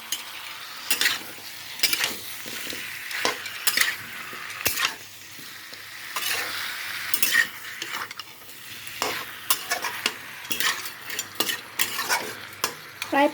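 Chicken pieces and small chunks of potato frying on a low flame while being stirred, soft sizzling under repeated scraping and clinking of a spatula against the pan in irregular bursts, close up.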